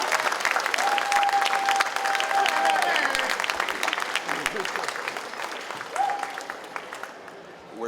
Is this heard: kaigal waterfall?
no